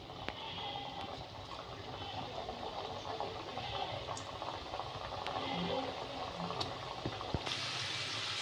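Goja, sweet fried dough pieces made from flour, bubbling and sizzling in hot oil in a kadai, a steady dense crackle with no talk over it.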